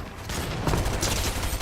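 SMG fire rattles in rapid, dense bursts in a first-person shooter match, loud and close with the crackle of other game noise mixed in.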